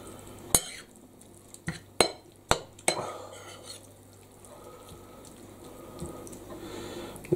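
Lemon and pea pesto stirred through spaghetti in a pan: several sharp utensil clinks against the pot early on, then soft, wet squishing and scraping that fades to a quieter, steady stir.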